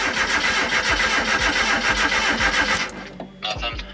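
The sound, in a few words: turbo Mazda Miata engine cranking on start attempt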